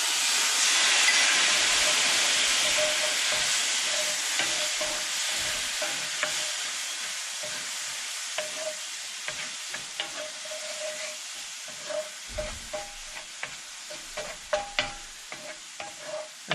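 Cherry juice, bourbon and molasses hit a hot pan of skin-on pork belly, giving a loud, steady sizzle that slowly eases, with stirring clinks and scrapes growing more distinct toward the end.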